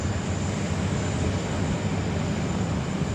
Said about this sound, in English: probably one of the longest takeoff rolls I think we've seen today